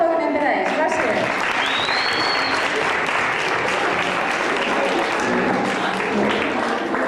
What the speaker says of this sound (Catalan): Un aplaudiment, un fort aplaudiment per a ells.